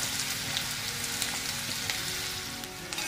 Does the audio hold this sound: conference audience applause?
no